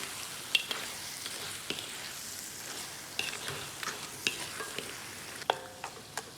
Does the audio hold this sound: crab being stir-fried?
yes